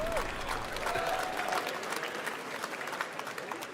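A live crowd clapping during a gaming event stream, a soft, dense patter of applause heard at a distance, steady throughout with a brief tonal blip early on.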